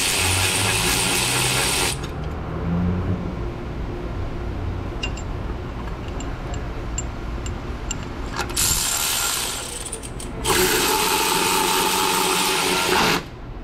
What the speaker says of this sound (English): we've got two bolts for the starter. Get those in and bolt this guy down.